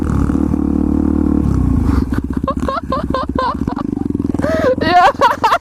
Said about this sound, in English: shredding the pit bike